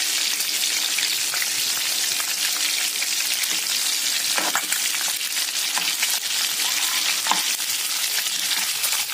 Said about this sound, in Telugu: మేము మాత్రము కొంచెం లైట్గా వేయించాము.